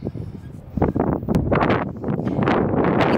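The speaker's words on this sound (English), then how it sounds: "keep in mind it's always extremely windy" Strong wind at Three Kids Mine buffets the microphone in loud, rumbling gusts that build and stay heavy to the end.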